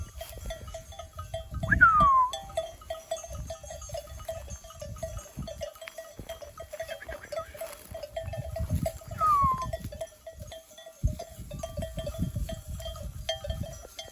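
Sheep and goats mill about outdoors with scattered bleats and shuffling, two high chirps, and a faint steady tone in the background.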